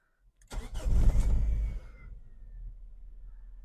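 A Mazda car engine cranks briefly, fires loudly with a rising rev burst, then settles into a steady low idle, close up, with no talking.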